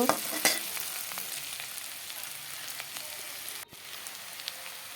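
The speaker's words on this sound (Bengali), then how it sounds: "দেখো বন্ধুরা এইভাবেই নাড়তে থাকবো, নাড়তে নাড়তে লাল লাল করে ভেজে নেব।" Cauliflower and potato pieces fry in a pan while being stirred, giving a continuous close sizzle with occasional scraping stirs and one brief dip in the noise near the end.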